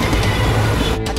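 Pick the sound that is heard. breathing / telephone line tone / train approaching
train approaching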